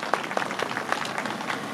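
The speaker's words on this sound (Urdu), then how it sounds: "ایک دفعہ بھرپور تالیاں بجا دیں" Applause from the audience at a school's 60th anniversary ceremony, a scattered, moderate clatter of clapping hands running throughout without any voices.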